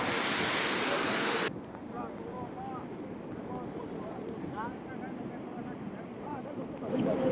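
Rain-swollen floodwater surges across a road, a loud continuous roar of rushing water with a heavy wind-buffeted burst at the start, then a steadier churning flow.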